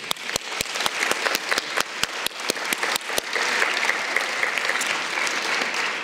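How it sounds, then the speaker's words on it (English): Sharp, loud claps ring out at a steady beat before dissolving into a full, sustained round of applause from the audience at a parliamentary summit in Lithuania. "I would really love for you to give them a great round of applause"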